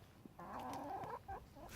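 Farm chickens clucking close by, a run of soft rhythmic clucks and a brief squawk over a quiet outdoor background, with no talking.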